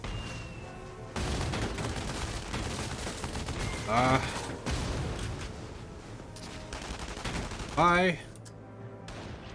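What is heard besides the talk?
gunfire in Valkyria Chronicles 4 video game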